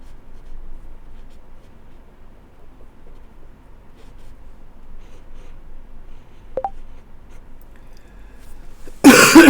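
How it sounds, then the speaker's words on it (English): A person gives a short, loud burst of dry cough at the very end, after a long quiet stretch with faint scratching of pen on paper, in cold, dry winter weather in Eastern Ontario. "got a bit of a dry cough going on"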